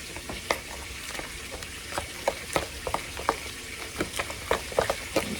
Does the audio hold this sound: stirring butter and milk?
yes